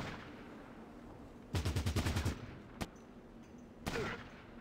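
Gunfire in the video game Fallout Tactics: a rapid burst of about eight automatic shots, then a single sharp shot and one more loud report, fairly close over a low steady background hum.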